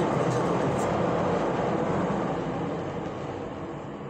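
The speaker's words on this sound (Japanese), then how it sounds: "ちょっと今電車通ってますか。" A passing train rumbles steadily as a broad, continuous roar, loud at first and fading slightly toward the end, with no talk over it.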